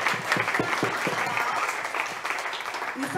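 Families and guests clap for a children's performance at a preschool event, a dense, steady round of applause with a few louder individual claps near the front and faint voices underneath.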